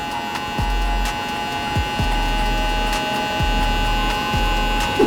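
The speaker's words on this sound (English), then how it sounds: "we're gonna grab our soft trimmer and just barely gently tap this line right here" Soft hair trimmer gently tapping a hairline during a burst taper fohawk on thick hair, a steady close electric buzz with faint hum and a few brief clicks.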